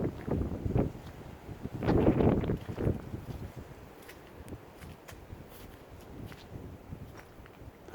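Strong wind gusts buffet outdoors, with heavy rumbling bursts in the first few seconds that ease into a lighter, fluttering rush of wind.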